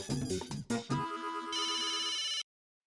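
A phone ringtone plays while a call is placed, a melodic electronic ring tune that shifts to a higher bright tone before stopping abruptly; fairly quiet and heard alone without talk.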